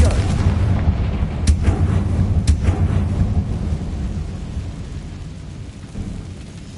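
A Confringo fire spell blast in the Hogwarts Legacy video game: heavy rumbling booms with a couple of sharp cracks near the start, then a rolling roar that slowly fades.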